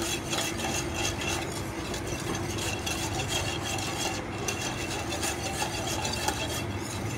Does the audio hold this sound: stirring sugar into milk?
yes